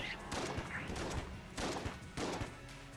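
A shotgun in Enter the Gungeon fires about four times in steady succession, each blast a short, fairly quiet, crunchy burst over a constant game background.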